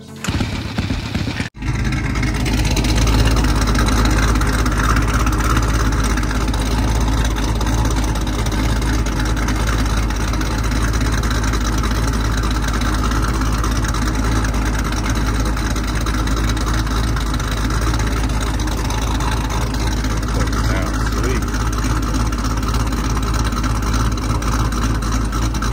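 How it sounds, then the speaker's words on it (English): A Chevy Camaro engine fires up with a sharp catch, then settles into a loud, deep, steady rumbling run heard up close. "start your engine."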